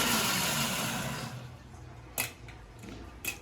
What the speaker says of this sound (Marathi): पल्स मोडवर थोडं आपलं असं पल्स करत पाणी घालून ते पूर्ण बारीक करून घ्यायचं आपल्याला